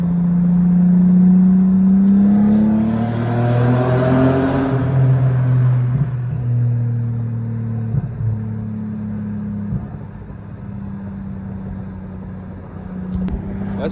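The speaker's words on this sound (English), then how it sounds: "Going through the tunnel with the Mercedes." A Mercedes W210 sports sedan in manual mode drives through a tunnel at night, its engine hum rising in pitch then settling into a steady, echoing drone with shifting tone.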